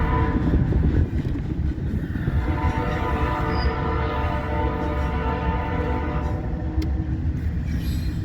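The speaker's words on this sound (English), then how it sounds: "Train heading west, Fremont, Nebraska." A westbound freight train in Fremont, Nebraska rumbles past with heavy, steady low roar and rolling wheel noise, fairly close and continuous, with a faint tonal horn-like layer and no talking.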